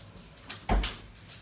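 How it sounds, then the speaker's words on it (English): A door swings and shuts with a single soft thud close by, in an otherwise quiet room. "so let me just shut my door"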